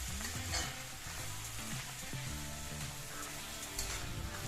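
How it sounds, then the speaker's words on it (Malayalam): Clam meat stir-fries in hot oil with dried chillies and curry leaves for a clam thoran. A dense, continuous sizzle plays up close and alone, with frequent scraping and clinking stir strokes. "എണ്ണ കക്കയിറച്ചിയിൽ പിടിച്ചു കിട്ടുന്നിടം വരെ നമുക്ക് ഇളക്കി കൊടുത്തുകൊണ്ടിരിക്കണം."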